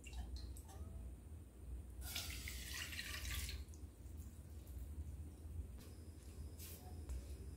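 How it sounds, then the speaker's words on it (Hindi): Sugar syrup is poured into roasted vermicelli (sevai) in a pan, making a faint burst of hissing, splashing liquid for about a second and a half, then sparse light drips against a low background rumble. "अब इसमें चाशनी को डाल देते हैं जो बना के रखा था मैंने।"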